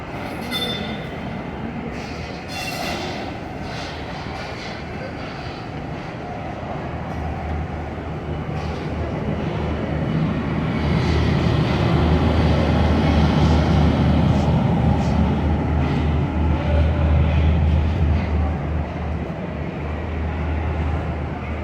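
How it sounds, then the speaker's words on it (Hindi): The 7 Up Tezgam express train pulls into platform 5 at Lahore Junction, with a loud, steady rumble of wheels and rail noise that swells over about twenty seconds and includes metallic squeals, with no talking. "प्लेटफार्म नंबर 5 पर 7 अप तेज़गाम अराइवल हो रहा है।"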